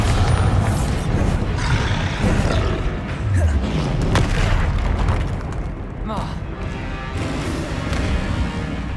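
Bombarda spell blasts in the video game Hogwarts Legacy: loud booming explosions with crashing debris fill the whole stretch, dense and close, with battle effects layered over and around them.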